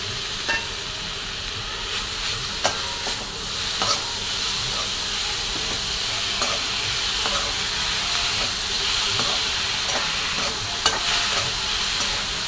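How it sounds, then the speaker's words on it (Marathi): Ridge gourd frying in a pan, being stirred, with a steady close sizzle and hiss throughout and occasional scraping stirs, no talking. "चला आपलं बघा दोडका टाकून घेऊया"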